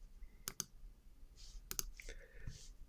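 Two quick pairs of computer mouse clicks ring out close and crisp in a quiet room, with faint incidental sounds between them and no talking.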